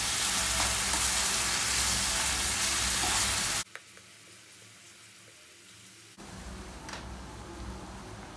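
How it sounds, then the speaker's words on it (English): Grated carrots fry in oil while being stirred, a loud dense sizzle that drops off abruptly partway through, then returns more softly with occasional utensil taps. "you want to just stir your oil, making sure that your carrot doesn't burn"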